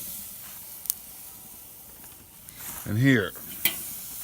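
Chicken wings marinated in mojo criollo dropped onto a hot grill, giving a soft steady sizzle and hiss with faint clicks, under a brief spoken phrase.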